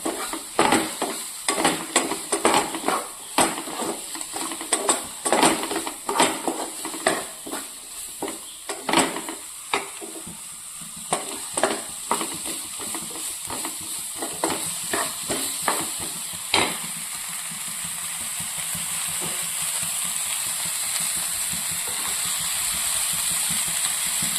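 Capsicum of three kinds with corn being stirred and sautéed in a pan for pasta, a sizzling fry under rapid, irregular scrapes and clatters of the spoon that thin out midway, leaving a steady hiss.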